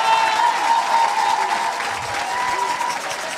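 Church congregation applauding and cheering loudly throughout, a dense continuous wash of clapping and crowd voices with a faint sustained tone running beneath.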